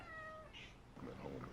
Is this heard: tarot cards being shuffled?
no